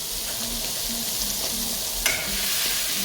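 Onions sizzle steadily in melted butter in a pan while a spoon stirs and scrapes through them, a close, continuous frying hiss with no voices.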